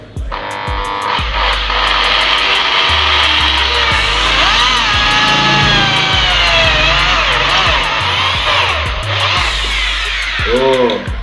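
A drill bores holes in wood with an 8 mm bit while building a folding table, giving a loud sustained whine that rises and falls in pitch over steady motor noise, broken by repeated knocks and clatter.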